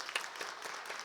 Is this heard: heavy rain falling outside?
no